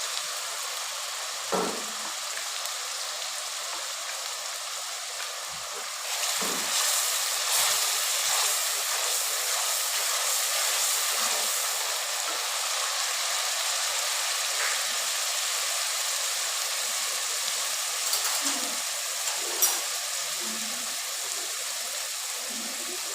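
Chicken pieces and garlic sizzle in a hot karahi, a steady broadband frying hiss that swells after the ingredients go in, with occasional pops and utensil clinks, fairly close.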